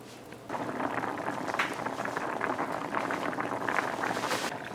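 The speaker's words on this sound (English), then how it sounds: "you want to let your tamarind boil for about 10 to 12 minutes. So we're gonna let it boil now" Tamarind boils in a pot of water, a steady, close bubbling and hissing that swells after a quieter start and continues without talk.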